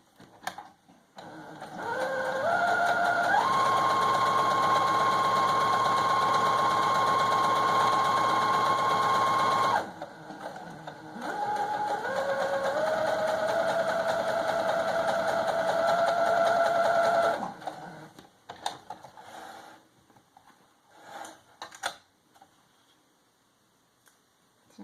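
A home sewing machine stitches elastic shirring on a dress, whirring loud and close in two long continuous runs with a brief pause between, then a few short stops and clicks as the fabric is handled.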